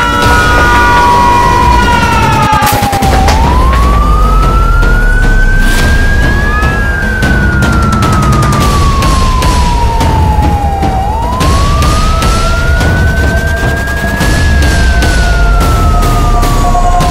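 Loud, close fire engine sirens wail continuously, the pitch sweeping up and down in long slow cycles while a second siren tone overlaps, with steady engine rumble beneath and no speech.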